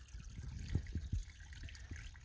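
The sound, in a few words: water filling a bag on the trail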